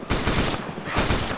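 Rapid automatic gunfire in the DayZ video game, aimed at a landing helicopter, in two close loud bursts with a short gap between them.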